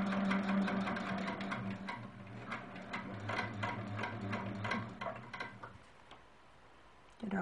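A domestic sewing machine stitches along an outer quilt border in quick rhythmic bursts of ticking needle strokes, close and moderately loud, pausing briefly before stopping near the end.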